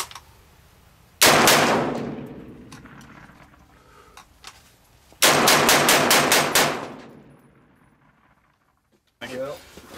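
Sig 716 rifle firing .308 rounds at an outdoor range, two loud bursts of rapid sharp shots, the second a quick string of about six, with echoing decay between and a short burst at the end.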